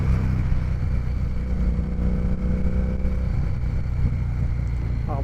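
A Harley-Davidson Street 750 motorcycle engine idles and runs with a steady, low, throaty rumble, close and continuous for the whole stretch with no speech over it.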